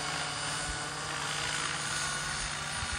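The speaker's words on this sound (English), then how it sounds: "Really, it's honestly such a nice helicopter." A Vario Hughes 269/300 scale RC helicopter flies at a scale helicopter meet, its rotor and turbine-like engine whine giving a steady, continuous drone at moderate distance with a faint rhythmic rotor thump underneath.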